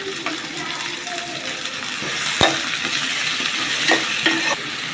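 Tomato added to a hot frying pan for a Bengali dish of Malabar spinach, potato and pumpkin, with steady sizzling frying and spoon stirring throughout, a sharp clack near the middle and a few light scrapes toward the end.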